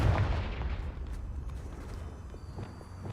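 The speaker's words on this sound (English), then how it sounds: "Let's blast them. Confringo." A Confringo blasting spell goes off in Hogwarts Legacy, a loud explosive burst at the start that rumbles and decays into a dull low roar with scattered small crackles.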